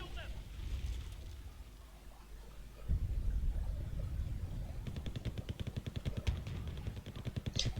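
Bombardment rumbles across a wargame battlefield, low booming impacts giving way to a rapid rattling burst of repeated blasts, heard at moderate loudness without speech.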